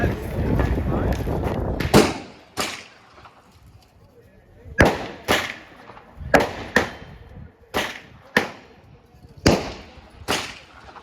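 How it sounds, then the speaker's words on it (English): Rifle shots at an outdoor public shooting range crack out in a scattered series, sharp and loud with echoing tails, separated by uneven pauses and heard over some background noise. "Guys here shooting rifles"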